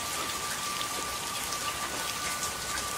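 Rain falls steadily outside a house's front door, a dense even hiss of drops heard close and unbroken, with no voices.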